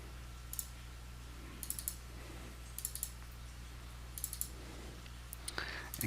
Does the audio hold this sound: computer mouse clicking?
yes